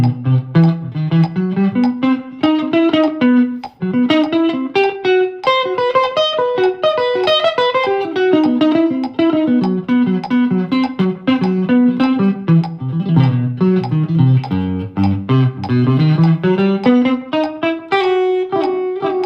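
Electric guitar with distortion and effects rhythmically picking two notes from a major triad, a steady busy stream of bright tones moving up and down, loud and close with no talking.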